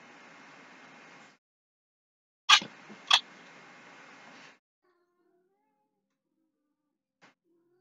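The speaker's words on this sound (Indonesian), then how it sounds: "video potongan kucing" A cat meows twice in quick succession, sharp and close, over a steady hiss of static noise that cuts out afterward, leaving near silence with one faint click.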